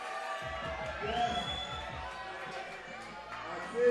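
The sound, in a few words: crowd cheering at bouldering competition finals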